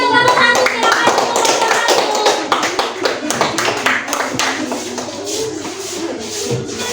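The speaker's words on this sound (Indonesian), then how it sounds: "Silakan tepuk tangan semuanya untuk kelompok 1." A classroom of students claps for a presenting group during a teaching practice session, a burst of close, uneven hand claps that thins and fades over several seconds, with voices and shuffling mixed in.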